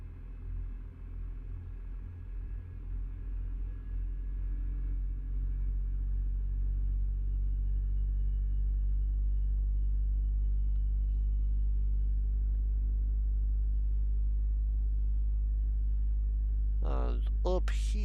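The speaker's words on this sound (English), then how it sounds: "Gotta love Caterpillar engines with their Jake brakes." A Caterpillar truck engine in Euro Truck Simulator 2 holds a deep, steady low rumble that swells and then sustains with a heavy, droning engine-brake tone, loud and close throughout.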